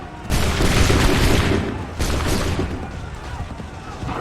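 A massed volley of musket and cannon fire erupts in Assassin's Creed III, a loud booming burst followed by a second crackling salvo that rolls and fades into rumbling echo.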